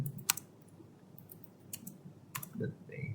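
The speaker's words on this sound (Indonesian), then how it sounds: "Kita ketik vim." Keystrokes on a computer keyboard as the vim command is typed, a few scattered clicks spread across about three seconds, soft and close against a quiet room hum.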